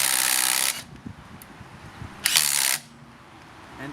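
Makita impact driver running lug nuts back on, two loud bursts of broadband hammering about half a second each, separated by quieter clicks and handling noise.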